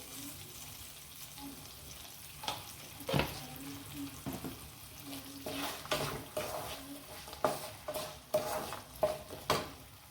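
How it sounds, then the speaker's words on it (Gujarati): Potatoes and onions sauté in a pan for poha, giving off a steady frying sizzle. A spoon scrapes and stirs in irregular bursts that grow busier toward the end, with faint talk now and then. "બટેકાનો કલર બ્રાઉન થઈ જાય ડુંગળીનો કલર બ્રાઉન થઈ જાય ત્યાં સુધી આને સતળાવા દઈશું"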